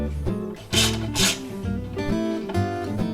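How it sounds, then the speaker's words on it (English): Threadlocker-coated bolt driven into a Honda Shadow motorcycle axle plate, with two loud bursts of rasping, grinding power-tool noise close by and a steady tonal hum underneath. "Put a little bit on your bolt and drive it into the axle plate."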